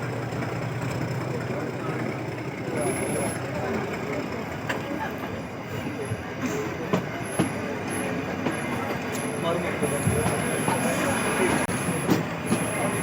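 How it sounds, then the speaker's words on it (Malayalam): The Nilgiri Mountain toy train between Ooty and Ketti rolls along with a continuous rumble and wheel noise, with faint squeals and scattered clicks over a dense, steady background. "സാധാ ട്രെയിനിൽ സഞ്ചരിക്കും പോലെയല്ല ഈ ടോയ് ട്രെയിൻ യാത്ര"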